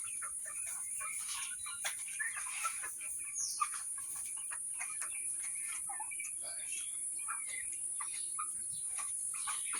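Tiger chickens cluck softly at a distance over a steady background of insect buzz and a high continuous whine, with a few brief louder calls.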